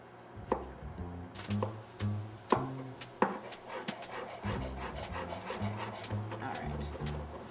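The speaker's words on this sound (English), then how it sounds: "Do a little quick smash, and then you want to gently mince it" A knife chops rapidly on a board, mincing elephant garlic after a quick smash, with sharp knocks and a steady back-and-forth chopping patter close up.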